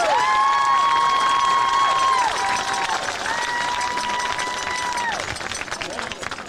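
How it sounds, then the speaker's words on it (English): A crowd applauds and cheers for a school homecoming court while a voice or tonal sound carries over the top, and the clapping stays steady and loud before thinning slightly toward the end. "Let's give our homecoming court a big round of applause"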